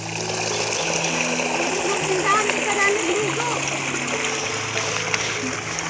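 Irrigation water overflows through the Cadapdapan rice terraces in a steady, close, rushing splash that never lets up, while voices talk over it.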